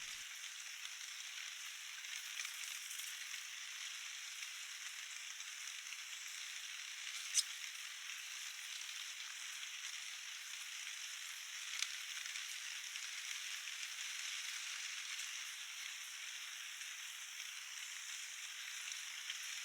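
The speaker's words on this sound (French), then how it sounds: "n'est autre que la résonance de la pluie sur la toiture en fibrociment" Rain drumming on a fibre cement roof makes a steady, hissing crackle like frying, continuous and fairly faint, with a couple of sharper drop ticks standing out.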